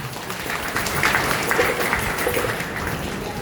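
A school cultural program audience gives a dense, steady round of applause that fills the whole stretch at an even level, with no voices standing out.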